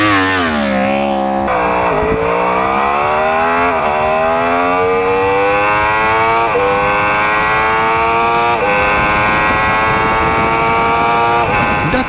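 A Yamaha R1 motorcycle accelerates at full throttle: the engine's loud, rising scream climbs steadily, broken by a series of quick gear shifts, and continues alone for about twelve seconds.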